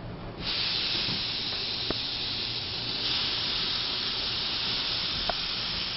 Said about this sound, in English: we need to sear this on all sides in this pan here